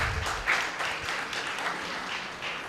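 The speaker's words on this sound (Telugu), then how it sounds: "గట్టిగా చప్పట్ల కొడదాం." A church congregation claps loudly after a blessing at a Bible gathering, a full, continuous wash of many hands that stays steady throughout without speech.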